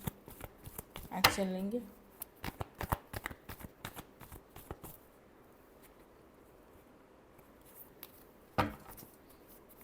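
Tarot cards shuffle in quick riffling bursts, loud and near early on, then thin to sparse soft flicks, with someone speaking briefly in between.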